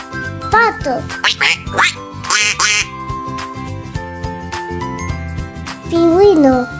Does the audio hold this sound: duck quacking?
yes